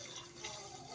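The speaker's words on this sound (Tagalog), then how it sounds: "lagyan muna natin ng tubig" Water poured onto uncooked rice, a broadband steady splash-and-trickle, faint and brief, with no talk over it.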